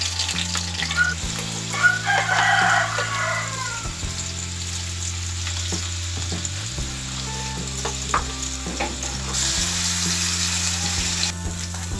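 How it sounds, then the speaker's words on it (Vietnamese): Carp fish frying in a pan gives a steady, fairly loud sizzle throughout, with low tonal hum and scattered clatter in the background and no speech. "Bây giờ chúng ta sẽ đi chiên cá. Tiến hành chiên cá."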